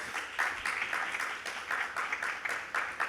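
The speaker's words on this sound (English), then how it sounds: "I think that deserves a round of applause." A panel discussion audience at India Web Fest 2024 applauds, with a moderately loud, rippling clatter of hands clapping steadily in uneven bursts throughout.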